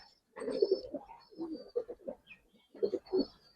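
A Giribaz pigeon, a long-necked male of an old flying breed, coos in several close, throaty bursts with short pauses between them, and a faint higher chirp sounds now and then.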